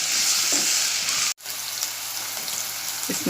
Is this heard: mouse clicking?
no